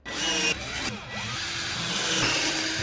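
Black table legs with gold accents being screwed into a piece of furniture, a steady whirring and grinding of a power driver running close up, with a short break near the start.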